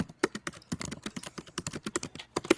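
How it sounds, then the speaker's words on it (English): Rapid, irregular keystrokes on a computer keyboard clatter close and clear, a steady stream of individual taps with no talking over them. "Someone is typing away."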